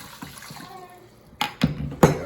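Liquid ingredient is poured in a kitchen during a kids' cooking session, giving a few short close splashes and glugs near the end after a quiet stretch.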